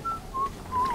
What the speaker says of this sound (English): I can hear something whistling.